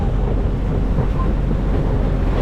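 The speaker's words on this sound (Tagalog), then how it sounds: "lakas ng ano, hangin" Strong mountain gusts buffet the microphone in Northern Samar, Philippines, in a loud, continuous low rumble that fills the whole stretch, with nothing else standing out.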